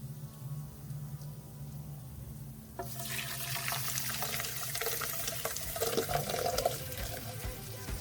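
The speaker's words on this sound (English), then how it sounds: "We're gonna add this with water and everything here." Water pours steadily into a blender, a sudden rushing splash starting partway through and continuing loudly over a low motor-like hum.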